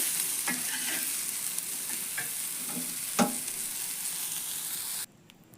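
Okra (bhindi) frying in a pan, a steady close sizzle broken by scraping stirs and one sharp clatter of a spatula, then cut off abruptly near the end when the gas is switched off.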